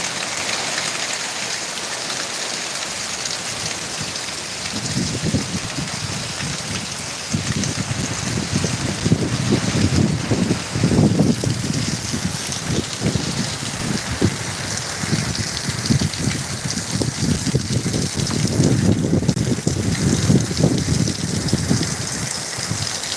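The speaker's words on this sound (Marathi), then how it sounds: "चांगलाच पाऊस व्हायला लागला" First monsoon rain of the season falling in the Sahyadri hills, a broad steady hiss that swells into heavier gushing downpour with drops pattering on surfaces, loud and continuous with no talk.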